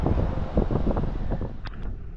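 Wind buffets the microphone in a steady low rumble outdoors at an electric vehicle charger on Kangaroo Island, with a couple of faint higher sounds near the end.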